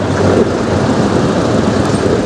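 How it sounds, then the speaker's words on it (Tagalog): Loud, steady machine drone from a soil testing rig working at a construction site near a toll on-ramp in Malate, Manila, a dense broadband rumble that runs continuously throughout. "maingay yung makina na ginagamit nila sa soil testing"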